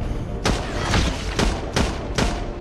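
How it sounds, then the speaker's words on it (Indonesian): Rapid gunfire in a violent film scene about chasing a cartel boss, a close, loud burst of about five heavy shots in quick succession over a dense rumbling background. "Rita dari belakang Mike melontarkan tembakan bertubi-tubi"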